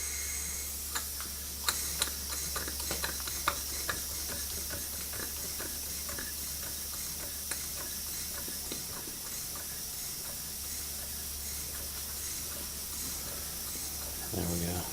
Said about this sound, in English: There she is, first run on steam since I've had it.